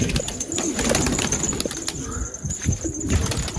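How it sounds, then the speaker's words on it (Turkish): Homing pigeons take off after release in a rapid, close flurry of wing flaps mixed with some cooing and rustling. "Şimdi arkadaşlar ne kadar posta güvercimiz varsa bıraktık."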